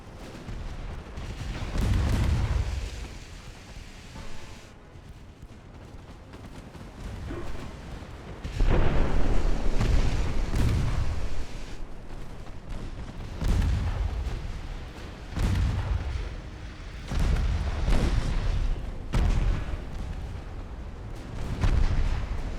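Heavy naval gunfire in the video game Ultimate Admiral Dreadnoughts, warships trading 10-inch rounds, with repeated loud booming salvos every few seconds and rumbling decays between them, no talk over it.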